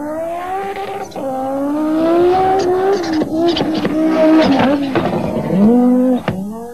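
An Audi Quattro Sport Group B rally car engine revs and climbs through gears at Pikes Peak, the pitch rising and dropping several times with sharp shifts, loud and close.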